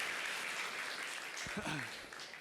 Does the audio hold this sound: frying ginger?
no